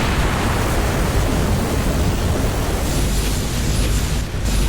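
A sustained, roaring explosion from a boss attack in the GZDoom mod God Complex, a dense, loud rumble that holds steady for several seconds without a break.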